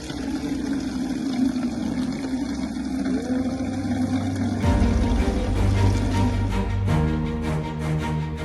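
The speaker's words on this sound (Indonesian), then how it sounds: "Suara gemericik air kini terdengar di musola Dusun Sukamulia" Water gushes steadily from a newly drilled bore well at a village prayer house in Aceh Tamiang, a continuous close splashing flow that grows heavier and louder partway through, with no talk over it.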